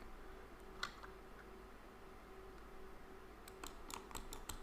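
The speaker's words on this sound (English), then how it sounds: "If I hold down the right mouse button and click," Computer mouse clicking while drawing in a pixel-art paint program: faint, quiet clicks, one isolated early, then a quick cluster of several clicks toward the end over low background hum.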